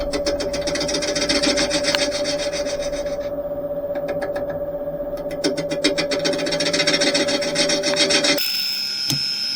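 Gouge cutting a cherry wood bowl on a lathe, slightly out of true with damp wood, a close steady rasping scrape with a constant hum, briefly easing mid-cut, ending in a sharp change.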